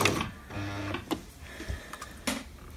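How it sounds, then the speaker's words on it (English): A sewing machine backstitching on a cosplay bodice lining, a close mechanical whir in short runs separated by brief pauses and clicks, with a faint steady hum underneath and no voices. "So just go and stitch back"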